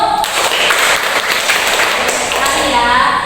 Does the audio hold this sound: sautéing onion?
no